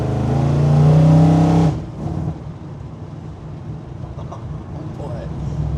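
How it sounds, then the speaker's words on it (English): A 1970 Chevrolet C10 pickup with a ZZ502 crate engine of over 500 hp accelerates hard with a loud, deep roar that cuts off abruptly after under two seconds, dropping to a lower rumble with road and wind noise. "This much torque, it just cuts those tires loose."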